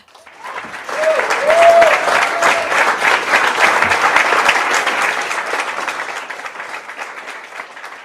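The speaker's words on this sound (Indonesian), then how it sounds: "Mari kita berikan tepuk tangan yang meriah." Sustained audience applause at the opening ceremony of an Indonesian craft exhibition, a dense, steady wash of clapping that builds within a second and holds for several seconds before easing slightly, with a brief tonal sound near the start.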